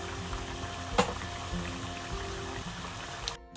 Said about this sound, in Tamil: இப்போ இங்கே சட்டி சூடாகிட்டது. நான் முதல்ல கடுகு போடுறேன்.